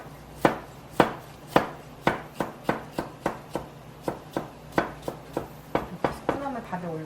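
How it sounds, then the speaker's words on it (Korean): Knife cutting cucumber into thin strips on a cutting board, a run of sharp, evenly spaced chops about two per second, close and distinct, with a voice starting over the last strokes. "오이를 먼저 채 썰어 놓고"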